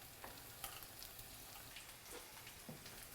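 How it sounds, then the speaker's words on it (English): Potatoes sizzle in hot oil in a frying pan for an Italian egg, sausage and potato frittata, a faint steady crackle with scattered pops and stirring clicks, no voices. "So that oil's at a pretty good sizzle now."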